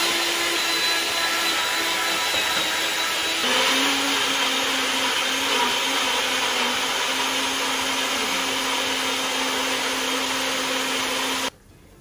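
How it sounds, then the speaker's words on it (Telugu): A kitchen mixer grinder whirs loudly as it blends tomatoes, onions and chole, its whine shifting pitch a few seconds in, running steadily, then cutting off abruptly near the end. "ఇది మనం మిక్సీ పట్టుకోవాలి."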